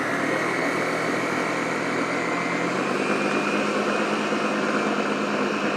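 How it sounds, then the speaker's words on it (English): Ninja food processor blending vegan ricotta, a loud continuous motor whir with dense churning that stays steady and close throughout, with no talk. "You may have to scrape the sides down when using a Ninja like this, food processor"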